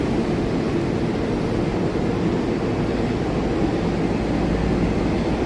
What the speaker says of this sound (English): Looks like we actually got another train coming in too.